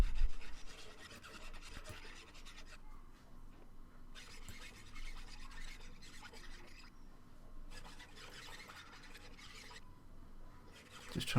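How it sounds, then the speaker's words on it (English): A fine file rubs over homemade scales in a run of soft, close strokes with short pauses between them, quiet and scratchy, smoothing away ridges and lumps. "So I'm just going to give it a final smooth off with a fine file."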